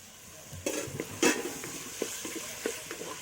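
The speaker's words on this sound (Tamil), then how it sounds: "கொஞ்சம் தக்காளி நல்லா கொலைய வதக்கிக்கலாம்" Onions, tomatoes and green chillies sizzling in a pan while a utensil stirs and scrapes, giving soft frying hiss with a few sharper clinks, close and without talk.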